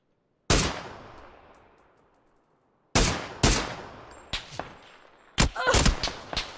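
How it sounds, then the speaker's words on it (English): Loud gunshots ring out in the video game PUBG: a sharp single shot with a long decaying tail, a pause, then renewed bursts of several rapid shots in quick succession, each with a bright crack and rumbling echo. "Dude, I shot him through the fucking trees, bro."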